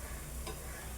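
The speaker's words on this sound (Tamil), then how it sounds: "இது கொஞ்சம் நம்ம சேர்த்து வறுக்கும் போது முட்டை நல்லா முறுமுறுப்பாகிடுங்க" Eggs coated in 65 masala frying in a pan, a steady soft sizzle filling the moment with one brief brighter crackle midway.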